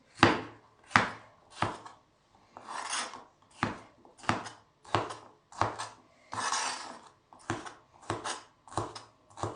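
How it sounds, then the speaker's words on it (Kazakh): Vegetables for a Korean-style salad are coarsely chopped with a knife on a board, producing a steady series of about fourteen sharp, close chops with brief gaps between them. "Сондықтан крупный тураймыз."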